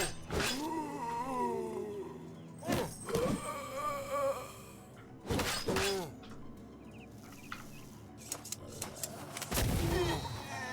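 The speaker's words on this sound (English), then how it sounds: "Cannons are awesome." Cannon fire in the Battle Brothers video game: several heavy booming blasts land a few seconds apart, mixed with roaring, growling creature noises and loud in-game battle clamor.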